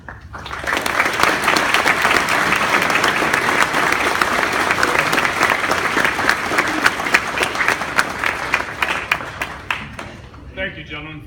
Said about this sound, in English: Thank you, gentlemen, for the applause.